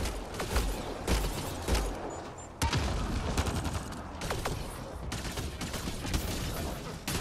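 Gunfire in the video game Mass Effect Andromeda, with dense rapid bursts and volleys of shots over a busy combat soundscape, loud and continuous, while people talk in the room.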